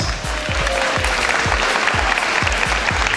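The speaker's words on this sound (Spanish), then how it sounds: "Fuertes aplausos." Loud applause fills a packed school gymnasium during a bingo event, a dense, steady wash of clapping from a large crowd with rhythmic group clapping underneath.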